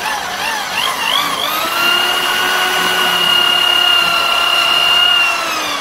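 A drill press bores through a clamped piece of wood during a narrowboat fit-out, a loud, close, continuous whine that shifts pitch as the bit spins up and then holds steady under load, with no one talking.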